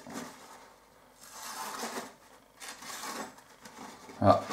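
A sharpened knife, honed on a Work Sharp Ken Onion Edition blade grinder, slices through kitchen paper in soft, raspy strokes, three bursts of papery scraping at close range followed by a brief sharper rustle.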